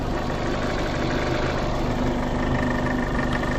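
A Fiat Panda 100hp idles with a broken exhaust and a rattling heat shield, giving a steady, close, even engine drone with no talk over it.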